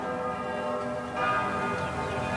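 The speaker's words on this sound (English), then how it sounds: "At that moment, the church bells began to ring." Church bells ring steadily with layered, sustained tones that fill the whole stretch, no voices present.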